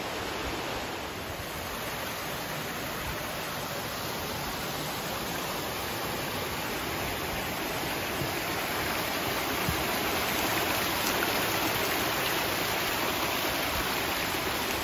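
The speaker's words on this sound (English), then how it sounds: "The waterfall up here, coming out of the side of the mountain." Glacier-fed waterfall pouring out of a mountainside in the Cabinet Mountain Wilderness, a steady full-band roar of rushing water, close and loud without a break, with no voices.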